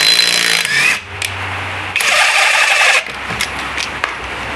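A power tool runs loudly for several seconds while loosening a bolt, in a test of torque wrenches, with a brief pause mid-way and then a steadier buzz; no speech.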